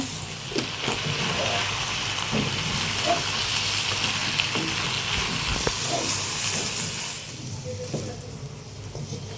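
Eggplant fries in a pan with a steady hiss and sizzle and occasional stirring clicks, quietening toward the end.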